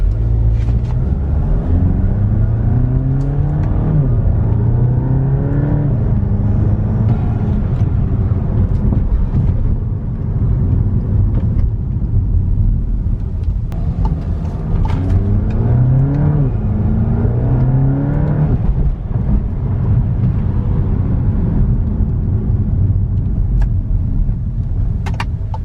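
Volkswagen MK7 GTI engine revved repeatedly, intake roaring and whooshing as the pitch climbs and falls in several loud, close sweeps over a constant rumble.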